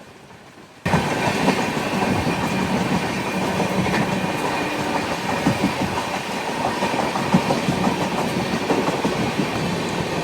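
A superfast express train runs on from inside the coach, giving a steady, loud rumble with rhythmic clickety-clack from the wheels. It starts after a quieter first second and carries on without a break.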